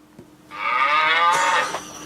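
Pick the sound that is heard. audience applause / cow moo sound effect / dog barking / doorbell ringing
cow moo sound effect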